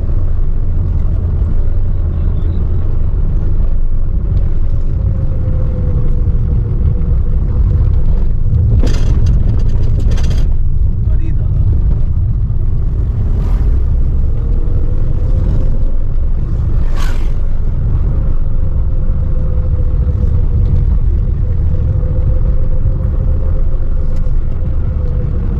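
Car engine rumbling steadily while driving along a hill road at about 40 km/h, a loud continuous low drone with a few brief louder bumps.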